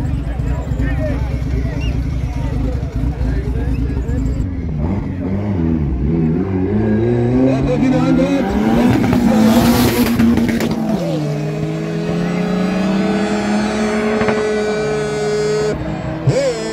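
Cars drag race at a race event in Botswana, engines roaring loudly as they rev and accelerate through rising gear sweeps, under excited talk from spectators.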